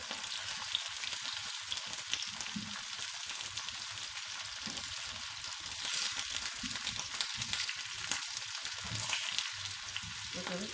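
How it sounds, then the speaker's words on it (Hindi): Eggplant slices sizzle and fry steadily in oil on a flat iron tawa as a knife shifts them around, a dense continuous crackle with occasional soft scrapes, close and alone without talk. "अब इसको हम छुरी की मदद से थोड़ा चला लेंगे।"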